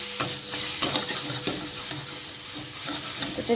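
Spice masala for fish curry frying in a pan sizzles steadily up close, broken by repeated scraping strokes of a stirring spoon and soft bursts of steam.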